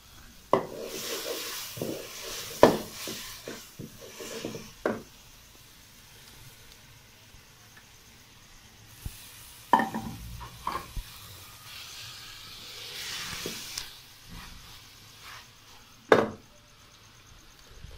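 Okra and bitter gourd being stirred into an onion-tomato masala in a pan: soft sizzling with scattered clacks and scrapes of a spoon against the pot, quiet stretches between bursts of stirring, no one talking.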